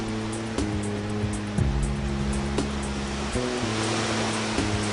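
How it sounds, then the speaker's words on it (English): Waves lap steadily at a beach shore in St John, US Virgin Islands, a continuous near wash of surf with soft swells, along with a low steady hum and faint periodic clicks, and no voices. "the sound of the waves lapping at the shore day and night"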